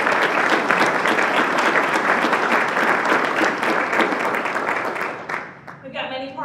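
Loud, sustained applause from an in-person audience at a health organization's annual celebration event, dense clapping filling the room for about five seconds before tapering off, with a voice speaking briefly at the end.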